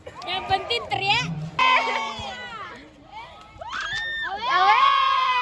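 A crowd shouts and cheers at a school sports event, with many high children's voices yelling and whooping in loud overlapping bursts and a short dip in the middle.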